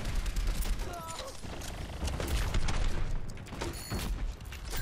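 Gunfire rattles through an Overwatch match, dense bursts of shots and impacts layered with game effects, loud and continuous throughout.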